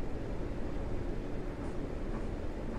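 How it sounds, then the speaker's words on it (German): A tram rolls past in the Ruhr-area bus simulator game Omsi 2, a steady low rumbling rail drone with rolling wheel noise that stays loud and even throughout, with no speech. "Da vorne haben wir dann noch mal eine Straßenbahn"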